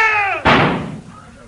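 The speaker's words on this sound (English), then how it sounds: "Now, I shall close the door." A door is shut as a radio-play sound effect in a 1945 Sherlock Holmes broadcast: one sharp, loud slam with a short decaying tail. It follows the end of a man's spoken line.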